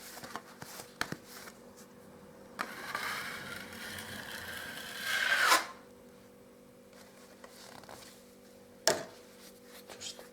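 A damp cloth wipes a plastering blade clean after filling a hole in old plaster, a rough rubbing swish that builds for a few seconds and ends in a sharp scrape, followed by a brief clack.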